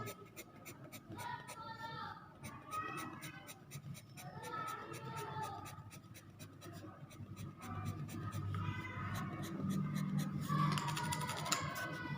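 A hard pencil scratches across paper while shading eyebrows on a charcoal-style bridal portrait sketch, giving quick, rhythmic, close-up strokes that continue steadily under a soft, intermittent voice.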